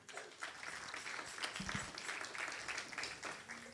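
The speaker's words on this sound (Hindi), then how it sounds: "पादी साहब के लिए और अपने लिए ज़ोरदार तालियां" A church congregation claps for a guest pastor at a worship service, a moderate, fairly even patter of hands lasting a few seconds at a modest distance.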